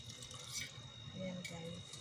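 Water drains and trickles from rice being strained in a kitchen before it goes into a rice cooker, a soft, close, uneven splashing flow with brief louder surges.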